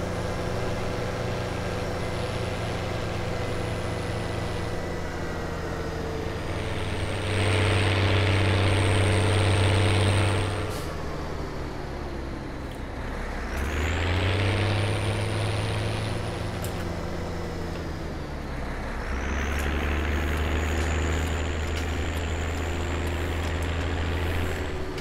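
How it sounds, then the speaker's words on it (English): A tractor engine in Farming Simulator 17 drones steadily and fairly loud throughout, its pitch rising and falling as it revs up and settles in several swells, with no talk over it. "I'll just take this tractor in the field."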